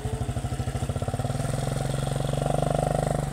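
A learner rider opens the throttle on a motorcycle, the engine chugging in quick regular pulses and then climbing into a steadier, louder rev, heard up close and alone.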